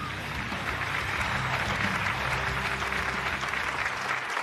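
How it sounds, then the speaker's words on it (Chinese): Audience applause for a Hong Kong kickboxer at a fight night in Portugal, a dense, steady wash of clapping from a large crowd, sustained and fairly loud throughout. "掌声送给陈启"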